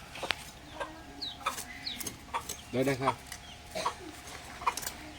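Chickens cluck in a village yard, with short fowl calls mixed among people talking nearby at a moderate, close distance.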